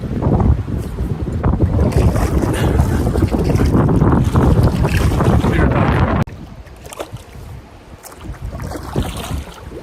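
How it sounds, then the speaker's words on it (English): Strong wind roars across an open lake on a solo canoe trip at Caddy Lake in May, a loud continuous gusting rush buffeting the microphone for about six seconds before easing into softer, fluctuating gusts with faint water sounds. "the wind really just picked up"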